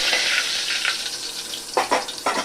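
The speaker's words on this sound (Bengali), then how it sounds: "এই দেখুন জিরাটা মোটামুটি ভাজা হয়েছে" Whole cumin seeds fry in hot oil, giving a steady bright sizzle broken by a few sharper crackling bursts near the end, close and with no talk.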